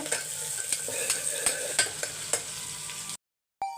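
Food sautéing in a pan while being stirred: a constant near sizzle with regular scraping strokes roughly every half second, then a brief silence near the end before the sound returns.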